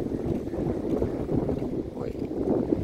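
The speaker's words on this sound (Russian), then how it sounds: "ветер такой, конечно, конкретный" Strong wind on a beach in Watamu, Kenya buffets the microphone in a steady low roar with gusty rumbling throughout and no pauses.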